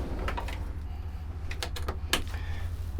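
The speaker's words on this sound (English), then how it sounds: "We do have another pocket door. Of course, it opens up and closes" A bathroom pocket door in a 2025 Winnebago Minnie Winnie 26NP Class C motorhome slides open and shut, giving a few quick rolling rattles and a soft thud over a low steady hum inside the coach.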